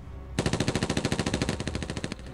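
Minigun fire in the video game Epic Battle Simulator 2, with 120 minigun soldiers per side opening up at once: a sudden, loud, rapid stream of rattling shots that runs for about two seconds, with no voices.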